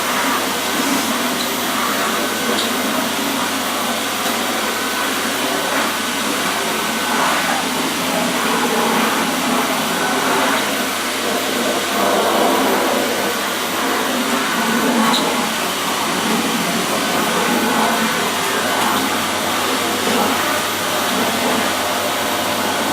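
A Dyson DC63 Allergy bagless canister vacuum cleaner runs on its maximum setting, giving a loud, steady, unbroken roar with a constant airflow hiss that lasts throughout.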